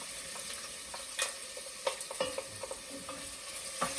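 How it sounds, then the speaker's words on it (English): Chopped Vidalia onion, about a quarter of one, sautés in a pan with a steady, soft sizzle and a few brief stirring scrapes and clicks. It is fairly quiet and close, with no talking. "now I'm going to take my onion and start sauteing my onion"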